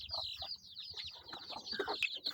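Native chickens and young chicks clucking and peeping close by, a busy cluster of short calls and chirps over a low rustling background.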